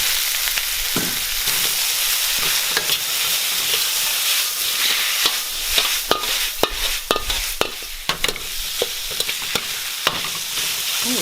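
Beef stir-frying with ginger and shallots in a hot wok, a steady loud sizzle with repeated scraping and clanking of the spatula as the meat is tossed, no voices.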